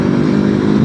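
A 2019 Honda CB500F twin-cylinder motorcycle engine runs close and loud, a steady deep throbbing drone held for under a second with no voices.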